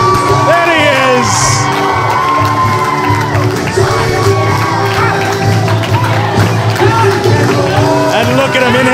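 A loud wrestling arena crowd cheers, whoops and shouts continuously for a wrestler's entrance in an independent wrestling match, with voices yelling over the din.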